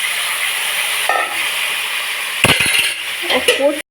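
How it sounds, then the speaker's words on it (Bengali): Chicken cooks in a pan while being stirred, a loud continuous sizzle and hiss with a few scraping, clattering knocks of the utensil against the pan near the end, close up. "একটু নাড়িয়ে চাড়িয়ে নিয়েছি।"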